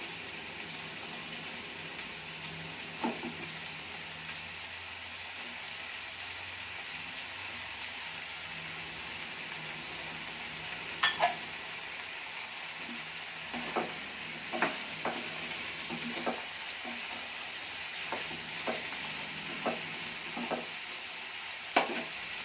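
Potato pieces being stirred as they fry in a pan for vegetable kurma, a soft steady sizzle broken by scattered scrapes and taps of a spoon.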